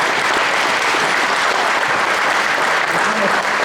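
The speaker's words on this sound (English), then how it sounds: "Let's give him a round of applause." Audience applause at a county touchdown club meeting, a dense, steady wash of clapping from a sizable crowd that holds loud and even for the whole stretch.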